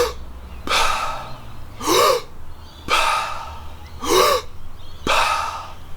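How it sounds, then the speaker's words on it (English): After a freedive, a diver takes recovery breaths: sharp, loud gasping inhales each followed by a hissing exhale, repeating in a steady rhythm about every second, alone with no talk. "This is what recovery breathing looks like."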